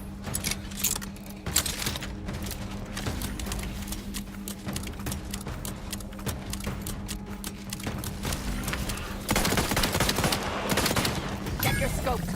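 Sustained automatic gunfire in a video game keeps up a fast, even clatter throughout, swelling louder toward the end, with game dialogue speaking over the shooting.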